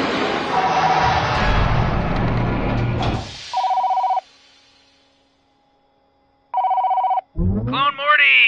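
Telephone in the Rick and Morty VR video game ringing in two loud electronic bursts separated by a pause, following a stretch of noisy game sound and followed by an animated voice starting to talk.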